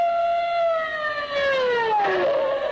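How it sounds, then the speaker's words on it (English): Police car siren used as a sound effect in a 1940 radio comedy, a wailing tone sliding steadily downward before another wail rises over it, heard loud and alone. "Long Pan jumps into his police car through the streets of Chinatown, his siren screaming"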